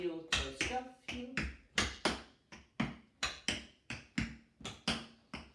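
Tap shoes strike a hard floor in walking heel, toe, scuff steps, about fifteen crisp, close, evenly spaced taps in a steady rhythm with no voice.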